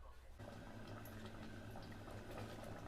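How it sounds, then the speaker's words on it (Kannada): Dry fruits frying in hot ghee, a steady loud bubbling sizzle that starts abruptly and continues close up without pause, no speech over it. "ಈಗ ಇದನ್ನು ತುಪ್ಪದೊಳಗೆ ಫ್ರೈ ಮಾಡ್ಕೊತೀನಿ ರೀ ತುಪ್ಪದೊಳಗೆ ಫ್ರೈ ಮಾಡ್ಕೊಂಡು ಅದರೊಳಗೆ ಹಾಕ್ಕೊಳ್ಳೋಣ ರೀ"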